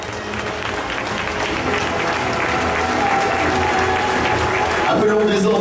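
Sustained, loud applause from a karate event crowd fills the whole stretch, dense and steady, with voices mixed into the clapping.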